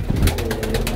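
Old Sialkoti golden pigeons cooing close by, with soft overlapping calls repeating through the second among other birds, with no talk.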